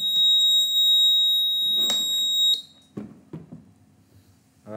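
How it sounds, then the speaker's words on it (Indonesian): A humidity alarm on an IoT substation monitoring device sounds as a loud, steady high-pitched electronic tone lasting a couple of seconds, then cuts off, leaving quiet room noise with a few soft knocks. "Seharusnya alarm akan berbunyi memberitahu."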